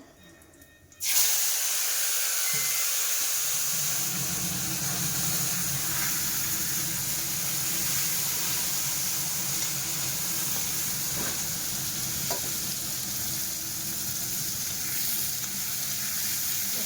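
Eggplant pieces hit hot oil seasoned with cumin, black cumin and bay leaf, a sudden loud sizzle that settles into a steady, close crackling fry with occasional stirring clinks, no voices.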